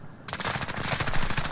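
Rapid automatic gunfire in Call of Duty Warzone, a fast burst of loud, sharp shots in quick succession, close and continuous with no talking.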